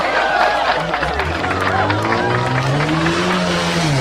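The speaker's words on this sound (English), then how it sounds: "This is home car demolition derby right here on the Vibe." Passenger cars and a camper trailer smash into each other in a home-built demolition derby, with revving engines, squealing tires and skids. A crowd cheers in the distance throughout while voices talk over the action.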